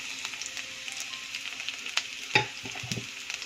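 Finely chopped garlic fries in hot oil for beetroot sambhar, a close, even sizzle broken by a few sharp stirring clicks and pops.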